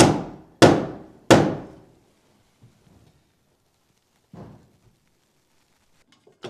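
A hammer drives nails into wooden floorboards in a rural self-built wooden house. Three sharp, ringing blows land in quick succession, then quiet follows, broken by one softer knock and a few faint taps nearby.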